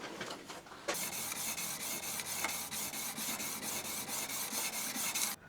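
Hand plane blade honed on 800 and 1200 grit sharpening stones, quiet rhythmic back-and-forth rasping strokes repeating steadily after a brief pause at the start, close and alone.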